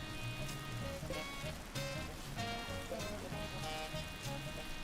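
Steady rain in the RimWorld video game, a continuous dense patter of drops on surfaces at even loudness, with faint game tones and chimes layered throughout.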